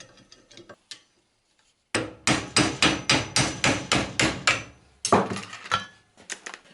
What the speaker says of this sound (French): je retire la goupille